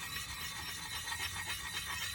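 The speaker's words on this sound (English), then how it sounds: "sharpen this a little bit here." A bushcraft knife blade is sharpened outdoors, rubbed in a steady back-and-forth rasp of gritty scraping strokes, close and fairly quiet with no talk.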